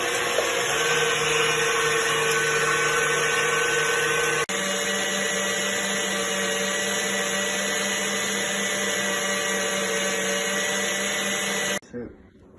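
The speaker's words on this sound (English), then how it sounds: "now you're gonna whip it until it's stiff and dry" Electric mixer whipping pavlova meringue until stiff and dry, a loud steady whirring drone that holds on, shifts pitch partway through, then cuts off near the end.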